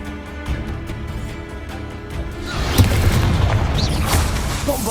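A Confringo blasting spell goes off in Hogwarts Legacy, a loud burst of explosive crackle and debris erupting midway after a stretch of quieter rhythmic ticking, then rumbling on with scattered crashes.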